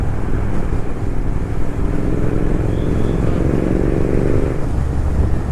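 A steady engine drone and road rumble fill the scene as a BMW GS 1250 motorcycle cruises along a road ahead, constant and fairly loud.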